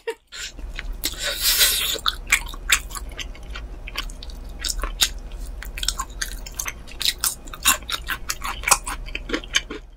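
Close, crisp crunching bites of fried chicken, with repeated sharp chews in an irregular rhythm and a loud crackly burst early on, no speech.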